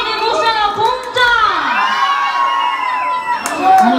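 A lively crowd cheers and shouts, with whoops and excited voices rising and falling, loud and close throughout.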